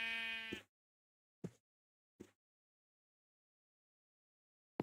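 Sheep in the Minecraft video game gives one clear harmonic bleat, followed by a few short, quiet clicks separated by silence.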